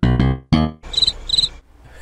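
Cricket chirping sound effect: a brief musical sting, then two short, bright bursts of cricket chirps with a pause between them.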